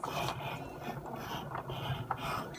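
A Cricut machine cutting around printed paper elements, giving a steady mechanical whirring with rapid ratcheting clicks and small gear-like ticks, close and continuous with no voices.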